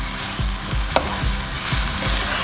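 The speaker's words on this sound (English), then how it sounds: "And then we just stir that until your vegetables are soft." Vegetables stir-fried with soy sauce for egg fried rice, a close, fairly loud sizzle with a few distinct scraping strokes and one sharp clack of the utensil against the pan, no voices.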